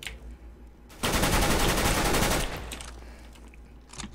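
Rapid burst of gunfire in Counter-Strike: Global Offensive, fired through a wooden surface, a dense loud volley of about a second and a half that stops abruptly and leaves a short fading tail.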